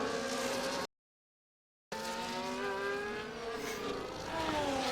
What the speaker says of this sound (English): A lot of lockups going on here.